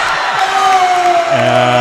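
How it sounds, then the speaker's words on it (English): A high school basketball crowd (Preston vs. Century) erupts in loud, sustained cheering and whooping after a kid sinks a half-court shot in a halftime shootout, a dense roar filling the gym with a tonal wail rising through it. "the kid just made a half-court shot in the shootout here at the halftime. Crowd goes wild."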